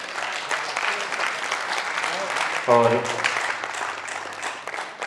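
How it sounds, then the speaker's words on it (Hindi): An audience at a dance-drama festival performance of Chand Ashok claps in sustained, moderately distant applause, with a brief spoken voice cutting in midway. "एक बार जोरदार तालियां"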